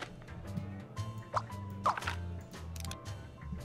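Water being conjured in the video game Scribblenauts Unlimited, with wet dripping, squishing and plopping sounds over a steady low game music bed, a couple of brighter splashy bursts standing out.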